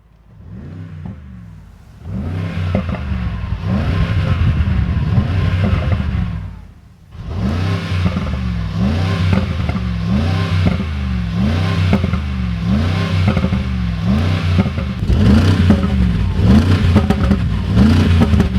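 A 2025 Mercedes-AMG G63 with its V8 engine is revved repeatedly in rhythmic blips, loud and close, with a brief dip to idle partway through before the revving resumes.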